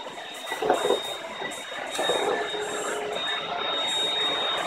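A household vacuum cleaner running with a steady whining hum and a high tone, its motor note shifting slightly, fairly close and continuous, with faint household sounds around it.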